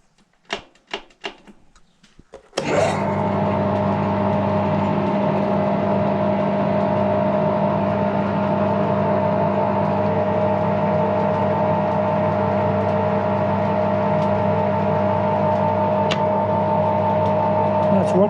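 An old Edgwick lathe's drive, newly repaired, starts after a few clicks and clunks of engaging, then runs steadily with a loud, even mechanical whir and hum, close by and continuous.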